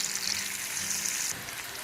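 Onions browning in hot oil for a prawn biryani, a steady broadband sizzle with no voices, easing slightly in the last half second.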